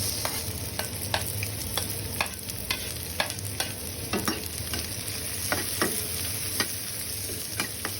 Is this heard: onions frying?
yes